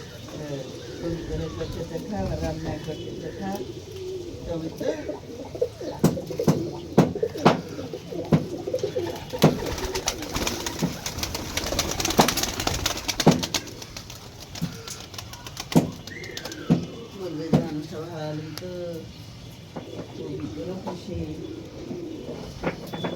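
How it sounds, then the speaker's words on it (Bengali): Pigeons coo softly in a steady, overlapping murmur, with scattered clicks and household clatter close by. "এই যে দেখুন কত সুন্দর কবুতর"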